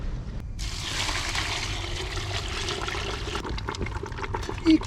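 Boiling water from two pots pours onto an aphid-infested garden bed, a steady broad watery rush that runs nearly the whole time, close and fairly loud, easing toward the end.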